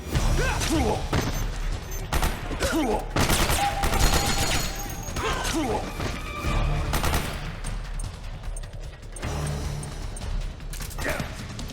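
Dense, sustained gunfire and rapid bursts from the 2008 stealth action game Metal Gear Solid 4: Guns of the Patriots, with crashes and thuds in a chaotic firefight, continuous and loud throughout while voices shout over it.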